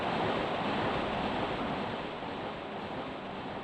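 A waterfall in the video game King's Field II gives off a steady, dense rush of water. The sound stays constant and fairly even throughout, with no voices.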